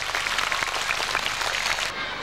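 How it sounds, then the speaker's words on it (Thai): School audience at a National Children's Day event in Thailand applauding with sustained, dense, loud clapping that fills the clip without a break, then drops slightly in level near the end. "ขอเสียงปรบมือดังๆครับ"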